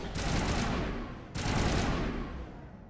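Heavy gunfire from the Mass Effect video game on Insanity difficulty, two sustained bursts of rapid shots, loud and dense, with a short gap between them.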